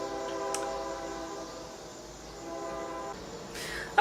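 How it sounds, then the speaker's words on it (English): A train passes close by, its horn sounding in long sustained tones over a steady rolling rail rumble that stays loud throughout, with no voices. "Okay, train's gone."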